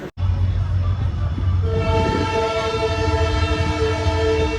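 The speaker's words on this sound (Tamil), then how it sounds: "ட்ரெயின் அவ்வளோதாங்க, இங்கேருந்து ராமேஸ்வரத்துலேருந்து வெளியில் கிளம்பிடுச்சு." A train pulls out of Rameswaram station as its loud, steady horn sounds over a low rumbling engine and rolling wheels, with a sharp knock near the start.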